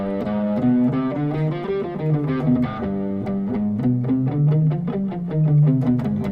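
An electric guitar with effects plays a run of notes through the Phrygian dominant scale (fifth mode of harmonic minor), an exotic gypsy-jazz sound, moving steadily up and down at a moderate pace.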